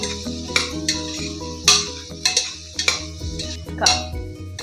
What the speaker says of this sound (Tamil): காயை நல்லா வதக்கிட்டு இருக்கோம்.